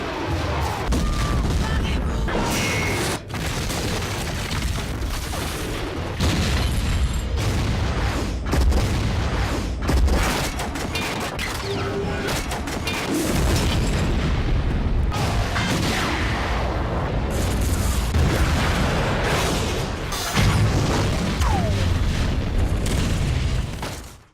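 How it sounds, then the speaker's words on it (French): A car crashes into a train in the film Super 8, setting off a huge, rumbling explosion: a sustained barrage of loud booms and blasts with scattered crashes, continuous and overwhelming throughout. "Une bagnole folle se lance sur les voies pour s'exploser contre le train. L'explosion est énorme."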